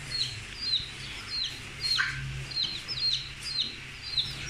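A hen sits clucking inside a duck house among other poultry, short bright calls and chirps repeating every second or so over a low steady background hum, fairly close and moderately loud.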